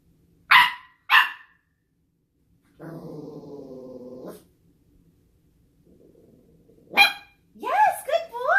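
A dog gives two sharp barks, then a low drawn-out growl, later a quieter rumble followed by more barking and whining yelps, with a trainer's voice present at times during training.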